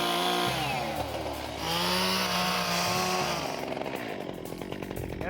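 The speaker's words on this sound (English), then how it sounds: "I'm not very comfortable with this chainsaw, Robert" A chainsaw cuts into a tree outdoors, the engine loud and close, its pitch rising and sagging under load, then shifting to a rougher idle near the end.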